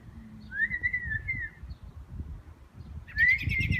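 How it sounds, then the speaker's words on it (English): Bird perched on a house roof gives two clear, rising whistled calls, one early and one near the end, fairly close and loud over quiet outdoor background rumble. "He's whistling at Gabby."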